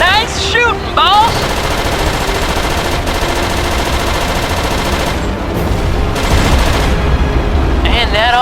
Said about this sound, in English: Shooting, boss!